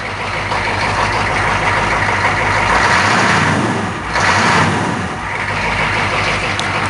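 A Chevrolet K5 engine cranking over and settling into a loud, steady idle in freezing cold, close up, with a brief dip and a surge partway through.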